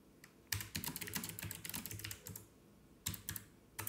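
Someone types on a computer keyboard in quick clattering bursts with a short pause, close and fairly quiet, during an online word game.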